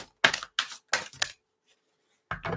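Tarot cards being shuffled by hand: four quick riffling bursts in close succession, then a pause and another burst, close and fairly crisp, with no talking.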